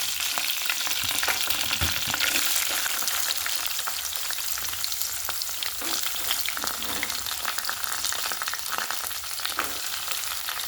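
Chana dal frying in hot oil with curry leaves in a pan gives a loud, continuous, close crackling sizzle, dense and steady throughout, with a few faint stirring scrapes.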